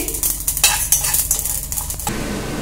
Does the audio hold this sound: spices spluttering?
yes